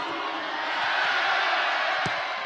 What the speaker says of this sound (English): So Young-dae getting a cheer, the away fans making a lot more noise at the moment than the home crowd